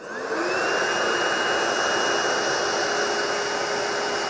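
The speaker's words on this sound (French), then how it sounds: "je vais juste essayer de matérialiser la puissance d'aspiration avec du sel" An Ecovacs Deebot Pro 930 robot vacuum runs steadily while sucking up spilled salt, a loud, continuous whooshing whine with a high motor tone that holds unchanged throughout.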